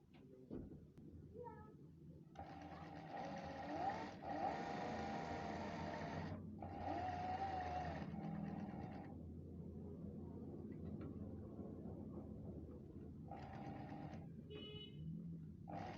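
A sewing machine stitches a strip onto a garment, running in two bursts: a long one of several seconds and a shorter one later. It sounds fairly close, with quiet gaps and faint background noise between the runs.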